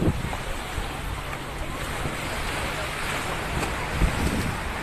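Sea waves wash against rocks at a beach on a windy day, a steady broadband surf rumble with wind buffeting the microphone throughout.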